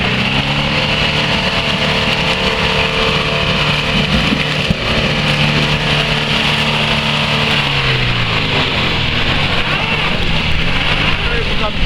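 A Toyota Land Cruiser Prado SX 3.0 turbo diesel (KZJ71) climbing a muddy hill, its engine droning loudly and steadily at high revs throughout, close up, while people talk over it.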